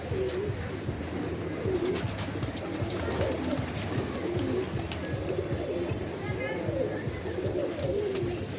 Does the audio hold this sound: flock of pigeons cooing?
yes